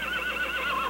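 A horse whinnies in a sustained, wavering call lasting about a second, fairly close and clear with no talking.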